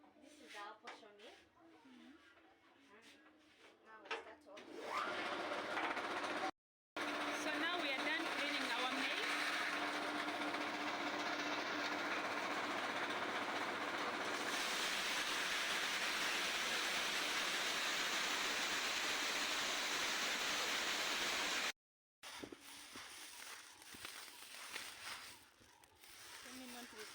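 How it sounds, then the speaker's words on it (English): A village posho mill grinding maize roars steadily and loudly for most of the stretch. The sound has a dense rushing, whirring texture and two brief dropouts, with voices talking faintly before and after the grinding. "This is our posho mill. Now we start off."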